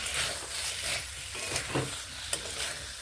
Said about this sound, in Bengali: এইভাবে আর কয়েক সেকেন্ড কষিয়ে নেবে আর চল্লিশ থেকে পঞ্চাশ সেকেন্ড আমি এইভাবে কষিয়ে নেব